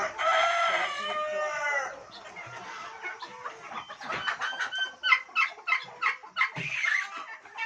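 Chickens being fed a homemade biryani: a rooster crows loudly up close at the start, followed by a flock clucking and squawking in busy, overlapping bursts.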